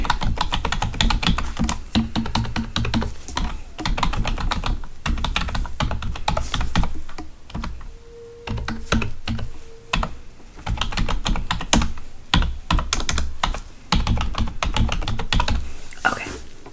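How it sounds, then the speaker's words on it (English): A computer keyboard typed on in a nurse-checkup roleplay, giving steady, close, rapid key clatter almost throughout, with a short pause midway. "So I'm just gonna type that here."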